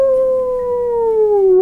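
A reader's voice imitates a little polar bear cub's desperate howl, one sustained, wavering tone that slowly falls in pitch, loud and close, with no other sound around it.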